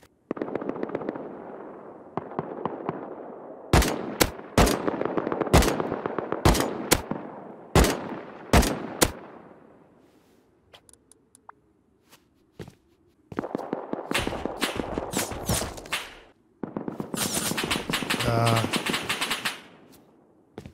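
Bursts of automatic AK rifle fire in the game Rust, sharp loud volleys in rapid repeated strings separated by short pauses, with some quieter background noise between the bursts.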